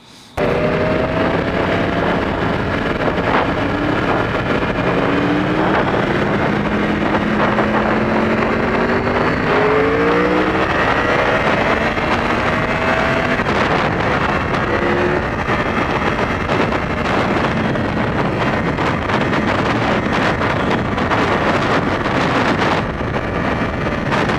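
A Yamaha R1 motorcycle engine pulls through a roll-on acceleration test at a powersports demo ride, its rising tone climbing in repeated sweeps under heavy, constant wind buffeting on the microphone, loud and close.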